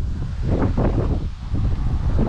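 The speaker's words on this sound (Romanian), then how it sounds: "Cred că se aude vântul și pe filmare." Wind gusting across a carp-fishing spot at a lake, heard as a steady close rumbling buffet of wind noise against the microphone for a couple of seconds with no talking.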